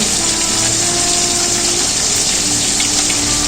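Tilapia pieces frying in a pan of oil give off a steady, dense sizzle and hiss, loud and close, continuing without pause for the whole stretch with no voices.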